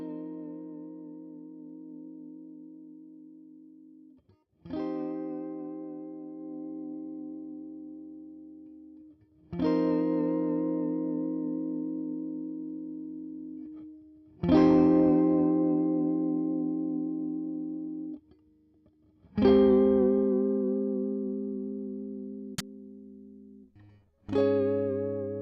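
Distorted electric guitar through an amp simulator plugin with a 2x12 blue cabinet, playing five sustained chords, each struck and left to ring and decay for several seconds before the next, with no talking.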